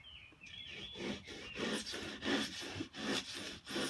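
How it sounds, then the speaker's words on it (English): Handsaw cutting through a NUDURA insulated concrete form foam block, a steady series of rhythmic back-and-forth rasping strokes, close and fairly loud, with no talking. "That's how you cut in the NUDURA block. We use a handsaw most of the time."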